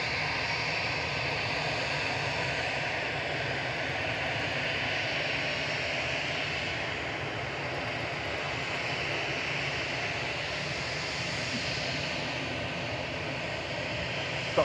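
An EasyJet Airbus A320 Classic, twelve years old, runs its jet engines at Manchester Airport: a steady, broad rumbling roar at moderate distance, unbroken and without voices.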